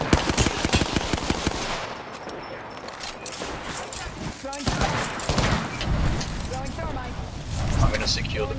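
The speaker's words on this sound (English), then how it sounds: "Getting shot at." Rapid bursts of automatic gunfire from the Apex Legends battle royale game, Season 6 on PS4, crackle loudly and repeatedly throughout, mixed with other in-game effects and a player talking over the shooting.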